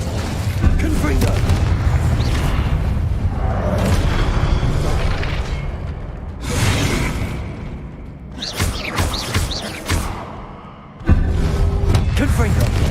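Repeated Confringo explosive spells in Hogwarts Legacy on PS5 burst as deep booms with whooshing tails, loud and near, several blasts over about thirteen seconds, with a voice speaking over the action.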